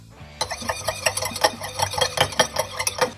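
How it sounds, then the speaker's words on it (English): A cracked egg is whisked in a bowl, giving a quick run of close, rhythmic clicking and tapping strokes that starts after a short quiet lead-in and continues steadily to the end. "Crack an egg,"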